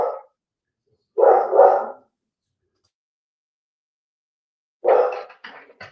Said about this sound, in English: My dogs go crazy.